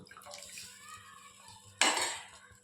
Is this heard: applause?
no